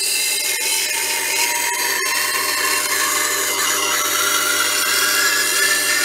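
An 80 or 160 grit CBN grinding wheel grinds metal, giving a steady, close, high-pitched hissing rasp with a few faint clicks and no speech.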